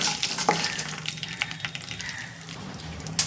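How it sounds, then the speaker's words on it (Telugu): Mustard and fenugreek seeds splutter while frying in a pan for curry leaf chutney, giving a steady close crackle with scattered sharp pops and no talk. "ఆవాలు బాగా చిట్టపట్లు ఆడాలి."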